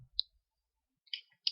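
Three quiet, sharp mouse clicks spaced unevenly, close to the microphone, separated by near silence while someone works in Autodesk 3ds Max.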